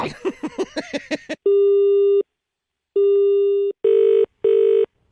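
Several short electronic tones fade out, then steady beeps sound in repeated bursts with gaps, like a phone line's disconnect or busy signal, loud and close.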